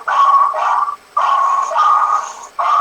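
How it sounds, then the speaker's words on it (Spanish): A small dog yaps in three or four sustained, bright bursts separated by brief pauses, close and loud with no voices over it. "Lo que escuchaba era el perrito"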